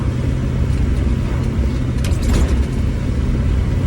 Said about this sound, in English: Everything I own in this truck squeaking as I go over bumps, including the truck.